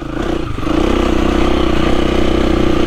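A dirt-bike-style motorcycle engine runs steadily while out green laning, a loud, close, continuous drone with a low throbbing idle that swells slightly after the first half second, no voices present.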